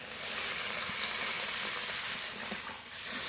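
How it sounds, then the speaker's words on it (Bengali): Water poured into spice paste frying in oil for a Bengali rui fish and taro curry gives a steady broadband hiss and sizzle, loud and continuous with a slight dip near the end. "জল দিয়ে দেবো, জল।"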